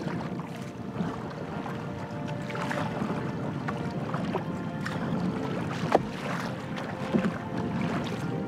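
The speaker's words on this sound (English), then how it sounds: "Oh, here's the wind." Wind rushes steadily past a canoe on a wilderness lake in Temagami, a continuous broadband roar with slight swells and a couple of small knocks, and no voices.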